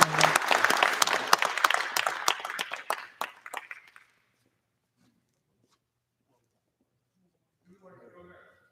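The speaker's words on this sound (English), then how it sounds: "So my applause to Sean and Nadia." At a celebration-of-life memorial gathering, an audience gives a burst of lively applause that quickly thins and dies away into silence. A voice begins speaking faintly just before the end.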